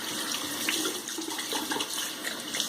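Tap water runs steadily and close by into a sink while a freshly shaved head is rinsed, a continuous hiss with small splashing variations and no talk.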